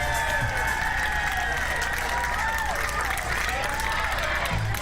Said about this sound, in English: A round of applause for my man Gideon OG.